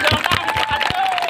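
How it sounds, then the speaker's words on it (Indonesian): Applause from the crowd at the closing of a village head's cup football tournament, a brief spell of scattered, fairly steady clapping under an announcer's voice. "Yuk, tepuk tangan."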